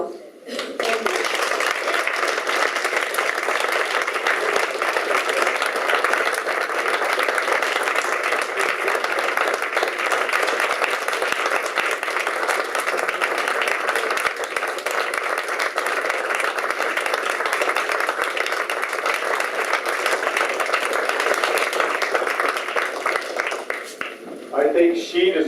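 An audience at a political event for a governor candidate claps steadily for more than twenty seconds, a dense and even wash of applause that tapers off briefly near the end.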